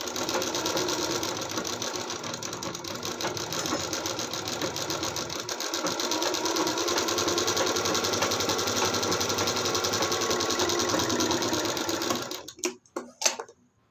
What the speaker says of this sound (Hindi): इसके ऊपर इसको डाल देंगे इस टाइप से और 1/2 इंच पकड़ के सिलाई लगा लेते हैं